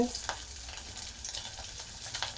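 A hilsa fish tail fries in hot oil with a soft, steady sizzle and faint crackling, quiet and unbroken throughout.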